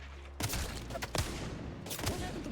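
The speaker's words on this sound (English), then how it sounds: "Whoa, they're shooting at me." Rapid gunfire in the battle-royale game Apex Legends, sharp bursts of shots in quick clusters against a dense, continuous background of game sound, fairly loud and close.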